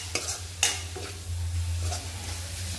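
A spoon stirs spices frying in a hot pan for masala pav, giving a few sharp scraping strokes over a steady, close sizzle.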